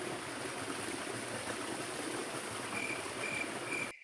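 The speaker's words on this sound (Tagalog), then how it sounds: "Ito yung sapa dito" A forest stream flows with a steady, even rush and trickle of water, close and continuous, with faint high insect chirps toward the end.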